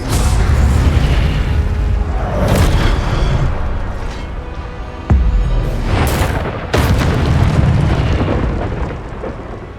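Spell effects from Hogwarts Legacy with loud, booming magical blasts and bursts, a series of heavy impacts and rumbling surges with sharp hits around the middle and later, continuous and dense.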